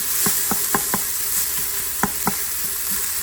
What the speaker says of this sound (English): I am going to throw in some onions and get those sauteing until they're soft